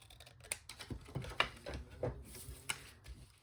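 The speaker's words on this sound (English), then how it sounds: "I'm just going to trim down where I've made the fold to give me the guide" Scissors trimming a 12x12 sheet of paper along a fold, a quiet series of short crisp snips and rustles in an uneven rhythm, close and faint.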